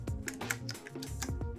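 Keys clack in quick, uneven bursts on an Apple IIc computer keyboard, faint and close, with no voices.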